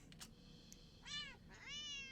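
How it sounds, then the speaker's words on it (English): Cats in a video game yowling: two drawn-out, wavering meows in quick succession, fairly clear over a low steady background hum, preceded by a few faint clicks. "Try to ignore the yelling of the neighborhood cats as you go about your chores."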